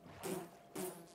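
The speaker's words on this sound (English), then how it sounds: "There's a bee! I've never seen a bee before." A bee in Minecraft buzzes in two short, close bursts separated by a brief pause, each a soft droning whir.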